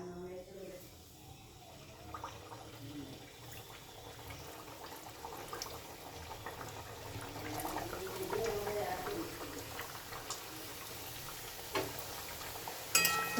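Khasta pitha made with palm fruit fry in hot oil in a wok, giving a steady, fairly quiet sizzle and bubbling hiss that builds slightly over time, with a few faint clinks near the end.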